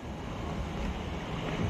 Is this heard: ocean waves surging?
yes